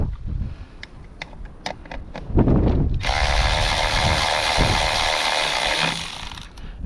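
Bolts on the air cover of a Generac Centurion generator are worked loose. Several sharp, separate clicks open the passage, then a dense continuous ratcheting rasp runs for about three seconds and fades at the end.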